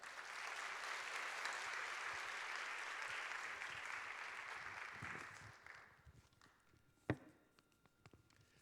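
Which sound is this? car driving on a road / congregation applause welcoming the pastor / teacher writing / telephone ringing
congregation applause welcoming the pastor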